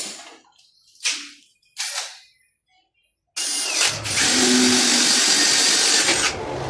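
A power drill bores a hole through a surface-mounted utility box for PVC conduit, starting with two short bursts, then running loud and steady for about three seconds before stopping.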